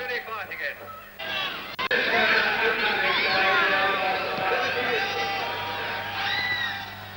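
A crowd roars and cheers steadily at a motorcycle race for the power bikes, a loud sustained wash of voices that swells and holds, with someone talking briefly over the start.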